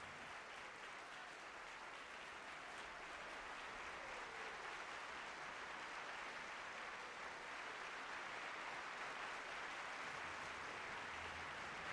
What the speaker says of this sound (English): has asked the members of the orchestra to rise and share this applause with him